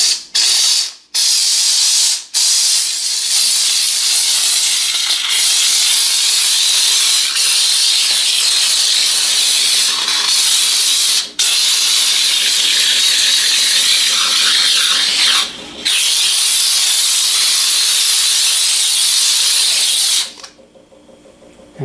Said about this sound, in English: You can push it here softer or harder to make it more strong or a softer blow of steam.